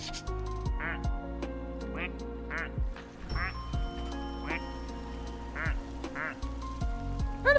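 Cartoonish duck quacks from a character in the video game Clair Obscur, repeating roughly every second in a steady series over soft game music, with a voice talking underneath.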